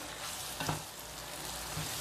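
Chicken paprik stir-fries in a pan with a dense, continuous sizzle and a brief scrape of stirring, close and steady with no voices.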